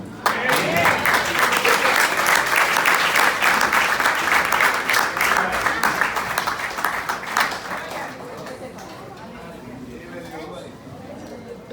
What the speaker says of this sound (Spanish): un aplauso bien fuerte al Señor